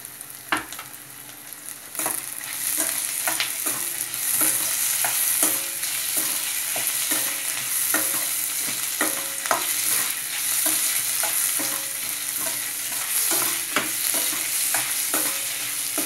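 Ginger garlic paste frying over a high flame for Hyderabadi-style mutton curry sizzles steadily, with repeated scraping stirs cutting through the hiss close up.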